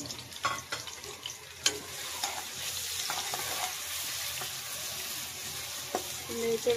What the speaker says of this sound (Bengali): এই তো এটা আমি এখন কিছুক্ষণ ভেজে নেব, তাতে করে মশলার খুব সুন্দর একটা ফ্লেভার আসে।